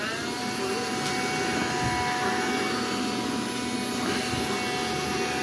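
A Black & Decker mini handheld vacuum cleaner runs steadily and loudly at close range, a continuous whining motor drone with a high-pitched hum that holds without pause, as if sweeping powder off a floor.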